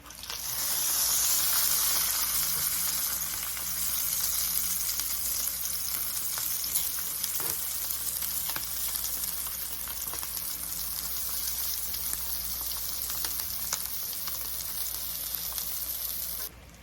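Sausages frying in a pot for a one-pot full English breakfast, a loud, dense, continuous close sizzle and crackle with faint stirring scrapes, steady throughout before cutting off at the end.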